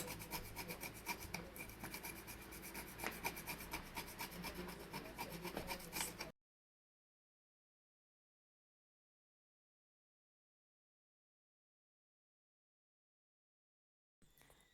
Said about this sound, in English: I'm gonna grate some nutmeg now